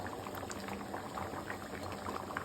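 Mixed vegetable sambar with dal bubbling in a pot on the stove, a continuous close boil of small popping bubbles and gurgles with no talking.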